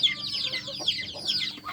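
Hens waiting to lay eggs cluck in a short, close run of rising, squawky calls, with a faint low rumble underneath.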